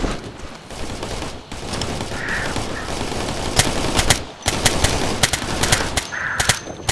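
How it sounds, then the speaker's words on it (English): Bursts of machine gun fire in the Operation Flashpoint: Red River military shooter, sharp repeated cracks over a constant battlefield din, with a few louder nearby volleys. "We're getting shot at!"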